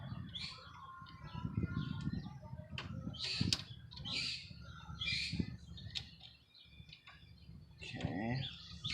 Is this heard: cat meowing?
no